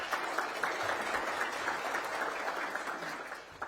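Audience applause at a Second Chance Forum panel event, a steady wash of many hands clapping throughout, moderately loud and continuous without speech on top.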